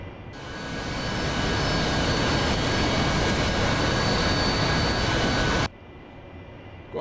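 An AV-8B Harrier jet engine in the DCS flight simulator spooling up for takeoff, a loud sustained roar with whining tones that builds over the first second, holds steady, then cuts off abruptly, leaving a quieter hum.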